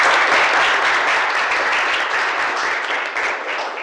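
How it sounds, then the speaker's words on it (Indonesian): A classroom group applauds at the end of an electronics engineering teaching lesson, a close, dense burst of clapping that stays strong and slowly thins toward the end. "Tepuk tangan buat ini."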